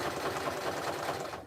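A sewing machine stitches a jelly roll rug in one short, steady burst of fast mechanical whirring and needle chatter, heard up close with no voices.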